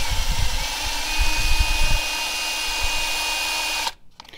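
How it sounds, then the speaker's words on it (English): An electric drill spinning 200-grit sandpaper against the coolant crossover tube of an early 1960s Cadillac, a steady high whine that holds for several seconds under a gritty rasp, then cuts off abruptly near the end. "you can just take a regular drill, tighten it down."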